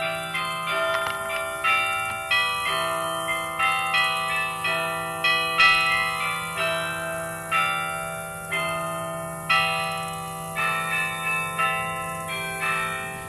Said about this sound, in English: you can hear the incredible sound of its 61 bronze bells